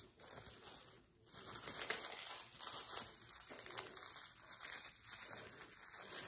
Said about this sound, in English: wrap it up just like this